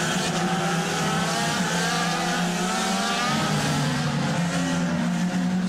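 IndyCar race engines roar continuously at a street race in Sao Paulo, a steady loud droning whine with pitch slowly shifting as cars pass and accelerate, crowd-distant ambience behind, no clear restart moment.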